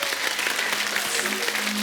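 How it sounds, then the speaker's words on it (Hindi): Audience applause from a studio crowd on a TV comedy show, a dense burst of clapping lasting a couple of seconds with a faint tonal hum underneath. "किरण जी से पहले जीवन साहब के लिए जोरदार ताली हो।"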